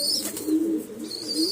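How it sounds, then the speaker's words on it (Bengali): Pigeons cooing in a loft, with a low, soft coo rising and falling through the middle over a steady background hiss, with a few faint higher chirps at the start and end. "আর উপরে এই চারটে পায়রা ছাড়া আছে"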